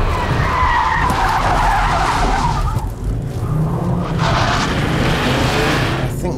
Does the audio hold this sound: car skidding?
yes